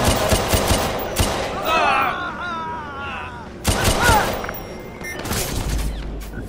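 Gunfire during a police patrol hostage situation in the video game Watch Dogs 2, with bursts of shots and booms mixed with a man's speech and radio chatter, loud and close, in clustered volleys.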